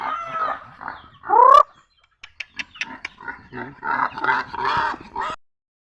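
Close-up clucking and squawks from chickens, with a loud squeal early on, then a quick string of sharp pecks or clicks and more busy clucking.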